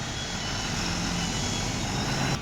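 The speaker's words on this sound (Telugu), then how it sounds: "ఇప్పుడు ఇది లిఫ్ట్ ద్వారా అన్లోడ్ అవుతుంది అనమాట" A loaded truck is raised on a hydraulic lift at an unloading point, giving a steady, continuous low mechanical hum with engine drone throughout.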